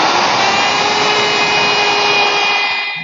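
Router fitted with a 1/4 inch radius round-over bit easing the edges of wooden molding for a headboard, a loud steady high whine running continuously and tapering at the end, close and without talk.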